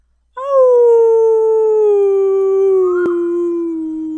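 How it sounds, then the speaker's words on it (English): A single long dog howl starts suddenly, loud and close, then slowly slides downward in pitch and softens near the end. "make time to howl!"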